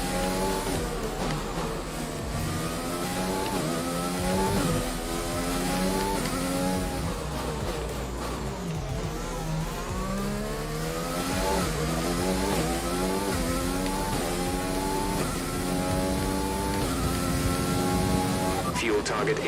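A race car engine in a multiplayer racing video game roars steadily throughout, rising and falling in pitch through repeated shifts and revs, loud and continuous with faint talk underneath.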